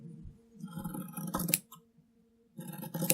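Scissors snip through embroidery fabric, trimming off a corner to round it into a circle, with close, crisp blade clicks and rasping cuts in two short bursts separated by a pause.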